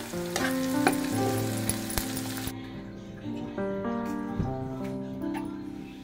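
Eggplant slices fry in a pan with a bright crackling sizzle, broken by sharp clinks of a utensil against the pan, while strong tonal background sounds run underneath.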